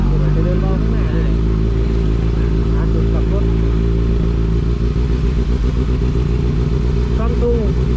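A Kawasaki Ninja ZX-6R motorcycle idles with a steady, close, loud low engine rumble that stutters unevenly. The rumble holds throughout without pause.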